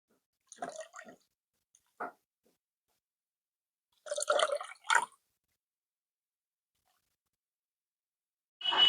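Liquid from a banana root preparation drips while being strained, in a few short wet splashes and trickles separated by silence, close and fairly quiet.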